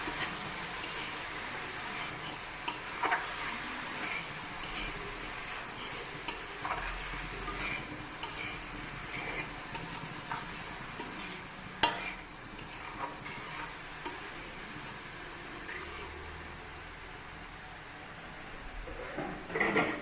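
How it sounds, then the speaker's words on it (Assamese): A spoon stirs turmeric into a khutariya lentil curry in a pan, giving soft scraping and tapping against the metal with a light sizzle underneath, close and fairly quiet, with no talking. "আৰু হালধিখিনি দিম। ভালদৰে মিলাই দিম।"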